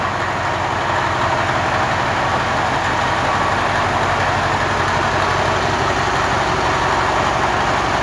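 A 1978 Peterbilt 352H truck with a 3408 Cat engine idles in a steady, loud, low rumble that holds unchanged throughout with no other sounds.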